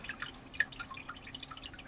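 Water trickles and drips through a small model river inside a growbox, with soft, close, continuous splashing and occasional brighter drip sounds.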